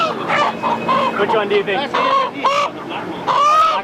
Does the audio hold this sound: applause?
no